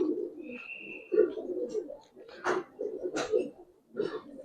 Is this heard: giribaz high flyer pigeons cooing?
yes